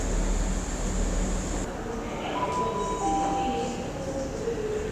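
Rumbling train noise inside a station, an eight-coach train, steady mechanical drone with brief tonal squeals as carriages move, faint voices in the background.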